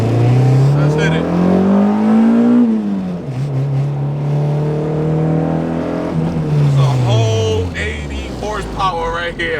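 Honda Civic EG engine with about 80 horsepower pulling hard on a highway, loud and close from inside the car, the pitch climbing through gears with a shift dip, while a person talks over it.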